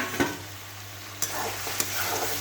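Prawns fry in a poppy seed masala, sizzling steadily at close range while a utensil stirs them, scraping the pan in a few distinct strokes. No one speaks.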